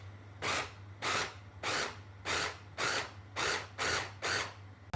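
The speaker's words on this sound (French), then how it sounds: "On va faire quelques mixages par à coup." A food processor pulses salmon and hake with onion and garlic in eight short, even bursts of whirring blade, each about half a second, with quiet pauses between, close and clear without talk.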